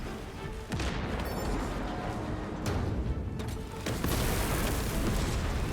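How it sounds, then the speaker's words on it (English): Shock grenade going off in Space Marine 2 amid a busy battle: several sharp, loud blasts and bursts stand out over a dense, continuous roar of game gunfire and explosions. "Shock grenade"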